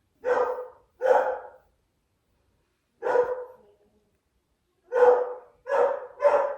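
A dog barks six times at close range: sharp, single woofs in uneven spacing, with a pair at the start, a lone bark after a pause, then three in quicker succession, each separated by silence.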